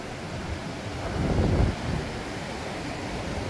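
Ocean surf at Playa de Palma beach on Mallorca gives a steady, rushing roar that swells once as a wave breaks, with wind buffeting the microphone throughout.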